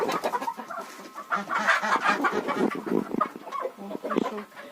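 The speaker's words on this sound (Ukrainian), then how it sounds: "Ось тут ще три курочки." Several hens cluck steadily inside a village coop, close and fairly loud, in soft overlapping calls with no speech.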